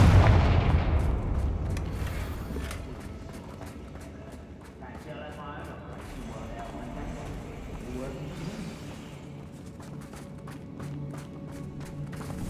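The Confringo blasting spell goes off in Hogwarts Legacy with a booming, gunfire-like blast at the start, followed by lingering rumble and scattered thuds and taps under spoken game audio.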